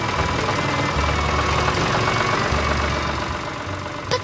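An animated green tractor arriving with a steady, loud mid-low engine rumble and idle throughout, ending in a few brief clatters.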